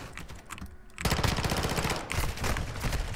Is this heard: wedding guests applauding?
no